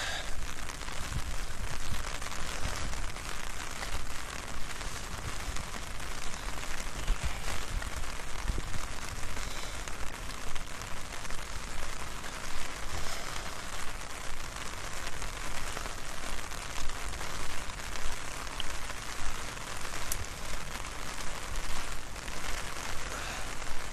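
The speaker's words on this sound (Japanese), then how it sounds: "雨だね。 こればっかりはもうどうしようもないよ。" Rain falls steadily along an outdoor walking route between Takao and Shinjuku, a dense continuous hiss of drops on surfaces lasting throughout at an even, moderate level.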